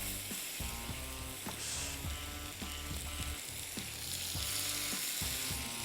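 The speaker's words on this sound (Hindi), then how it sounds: "लेकिन यहाँ सबसे पहले चिकन इसमें फ्राई कर लेते हैं" Cubed chicken leg pieces frying in a pan, a soft, steady sizzle with occasional stirring under background music.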